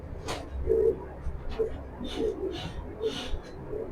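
Racing pigeons sitting in a nest box coo softly in a few low, throaty calls spaced through the moment, close by, with faint background noise.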